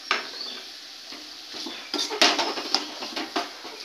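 A metal spoon scrapes and clinks against a pan while mashing and mixing a green pea filling with fried spices and chopped coriander, giving a series of close, irregular scraping strokes and taps.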